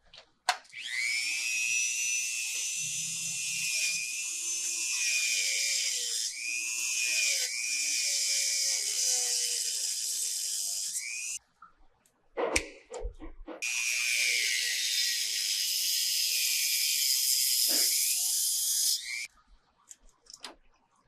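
A coral base is sawn away by a high-pitched power cutter that whines steadily in two long passes, broken by a short pause with a thump and a clatter, loud and close, with no voices.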